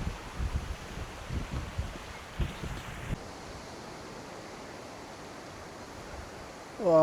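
Strong wind beside the River Tweed during a fly-fishing outing buffets the microphone in low, rumbling gusts for the first three seconds, then settles into a steady, even hiss; no voices.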